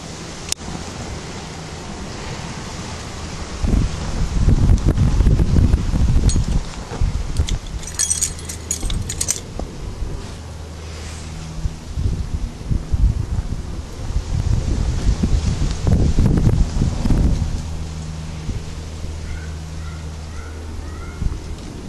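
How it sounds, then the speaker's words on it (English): Breezy outdoor wind gusting across an open microphone beside a tinder fire, rumbling in two strong buffeting surges between calmer stretches, loud and close, with a brief rustle in between. "you can see it's quite breezy today"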